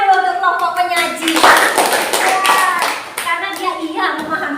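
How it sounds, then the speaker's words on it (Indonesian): Classroom audience clapping for a presenting group during a teacher-training lesson, a dense patter of hands blended with overlapping voices talking throughout. "Beri tepuk tangan dulu untuk kelompok penyaji."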